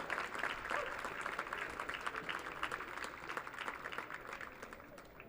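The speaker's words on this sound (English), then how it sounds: "one more round of applause for the 2019 SAC All-Defensive Team" An audience at a college baseball awards presentation applauds the SAC All-Defensive Team, with sustained, moderately distant clapping from a modest crowd that holds steady and slowly tapers.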